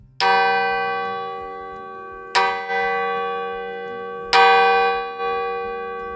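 An old church bell at Lodbjerg lighthouse, donated in 1795, is struck three times at roughly two-second intervals, each loud, close clang ringing on with a long, slowly fading hum and no talk.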